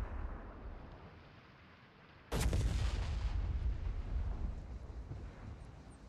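An indirect fire crew in Company of Heroes 3 looses a single heavy artillery blast that cracks out suddenly after a quiet wartime stretch, then rumbles and rolls away slowly into the distance.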